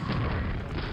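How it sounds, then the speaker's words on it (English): A grenade jump in Quake sets off a deep, booming in-game blast that fills the whole second with a heavy low rumble. "And that's a grenade jump."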